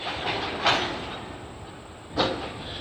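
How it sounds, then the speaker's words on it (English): A train rolls past on the line, a steady broadband rumble and rush with two brief swells of noise from passing cars, heard fairly close and without speech. "maybe this train might be 434, and it could be late"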